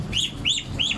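Three quick high peeping chirps from a released duckling, close and clear, evenly spaced within a second against faint background rumble.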